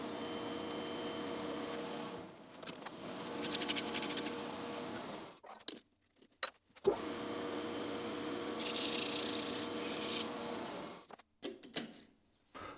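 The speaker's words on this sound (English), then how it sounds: "let's quickly go to the lathe and buff it back up" A metal part being buffed on a lathe: a steady whirring, grinding rumble runs for several seconds, cuts out with knocks and pauses, then resumes at similar strength, close and moderately quiet.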